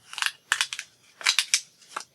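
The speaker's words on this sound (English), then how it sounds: "Yep, cut out all of them." Scissors snip through paper while circles are cut out, giving short bursts of crisp, close cutting strokes in several groups separated by brief quiet gaps.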